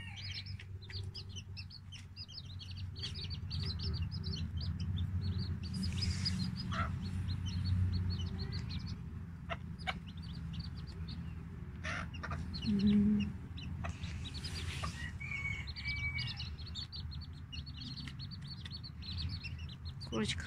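A hen clucks softly while small chicks chirp in quick, high peeps nearby, outdoors with a faint voice now and then.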